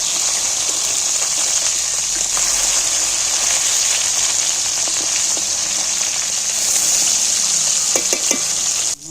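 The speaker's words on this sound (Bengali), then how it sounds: "মাছগুলো কিন্তু ভাজা হয়ে গেছে এইবার আমি মাছগুলো থেকে তেল ঝাড়িয়ে তুলে নিই" Whole fish fry in hot oil, a dense bright hiss of bubbling fat running continuously and close, with a few light scrapes near the end as pieces are turned, and no talking.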